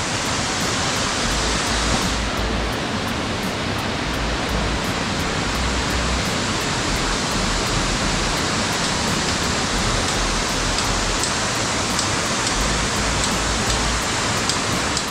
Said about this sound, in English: this is Ashoka waterfall for you guys